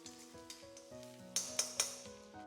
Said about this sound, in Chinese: 把切好的葱姜蒜末倒进来，炒出辅料的香味